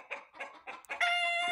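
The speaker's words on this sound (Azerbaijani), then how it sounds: "Toyuğun biri orada qalıbdır, səs salıq" A farmyard hen clucks in a short series of close, rhythmic calls, then breaks into a louder, sustained squawk at the end, with no talking.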